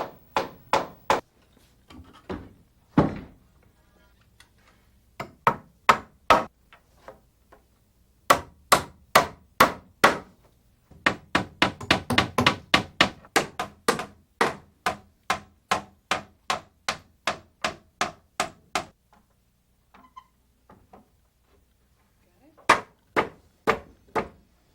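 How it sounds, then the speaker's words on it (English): A hammer drives nails into wooden deck joists and rim joist in sharp, loud blows, delivered in several rapid bursts of a dozen or more strikes with short pauses between, some sets heavier and faster than others. "Then we end nail each joist into the rim joist on our marks."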